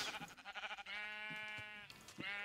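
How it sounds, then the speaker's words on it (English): Sheep bleat in Minecraft, a modded game world, with two wavering, nasal cries close together, the second stretched out longer, sounding near and clear with no voices over them. "Oh, there's two sheep down there."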